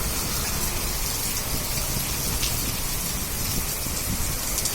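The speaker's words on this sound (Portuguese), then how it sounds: "Olha a chuva, pessoal." Heavy late-afternoon rain pours down in Uibaí, Bahia, a dense, steady hiss of drops on surfaces that holds at the same loud level throughout, with no voices.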